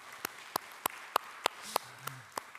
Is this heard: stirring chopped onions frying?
no